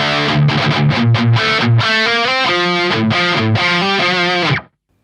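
Heavily distorted electric guitar plays a Rocket League riff at full speed, with quick hammer-on notes in a steady, driving rhythm. It is loud and close, with no voice over it, and cuts off abruptly near the end.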